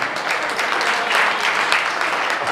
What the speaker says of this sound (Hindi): अब बजाओ ताली